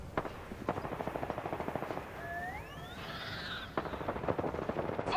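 Rapid automatic gunfire crackles in quick, even bursts during a battle royale video game match. The shooting pauses midway while a rising whistling sweep passes, then the firing resumes.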